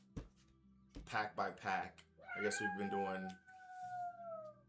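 A pet cat gives a long, drawn-out meow with a sliding pitch, rising then fading, right after a man's brief speech, heard close and fairly clear against a quiet room.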